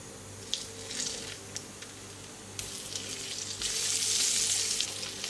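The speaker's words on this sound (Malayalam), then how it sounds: "നമുക്കെടുത്ത് വെച്ചേക്കുന്ന മുട്ട ഇതിലേക്ക് ചേർത്ത് കൊടുക്കാം" Egg added to a hot pan for egg mandi sizzles and fries steadily, with a louder burst of crackling midway, close and continuous with no talking.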